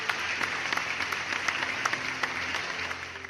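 A church congregation claps together in praise, a crowd of hands beating in a loose rhythm with sharper accents, moderately loud and sustained against a faint background hum.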